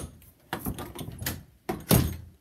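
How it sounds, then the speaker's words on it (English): A room door being shut, heard as a few close, sharp knocks and a rattling thud a second apart, with no talking. "Have to close my door."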